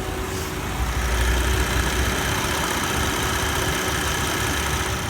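A Honda Odyssey engine idles at about 700 RPM, a steady, even low drone with a faint constant whine on top, heard alone without talking.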